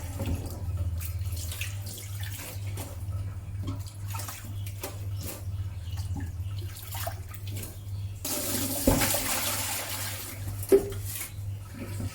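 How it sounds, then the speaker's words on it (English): Running water from a tap pours steadily while fresh spinach leaves are washed, a constant close rush with a low hum beneath and a brief louder splash near the end. "Wash the fresh spinach leaves with water several times to remove any dirt."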